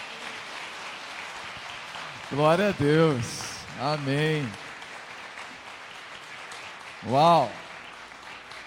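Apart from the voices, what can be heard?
congregation applause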